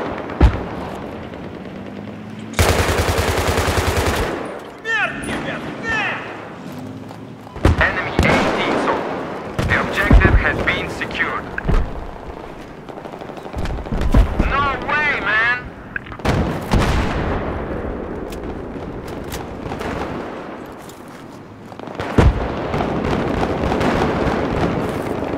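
Battlefield 3 multiplayer combat: loud bursts of gunfire, heavy booming explosions and artillery-like blasts arriving in irregular clusters, with players talking over the action.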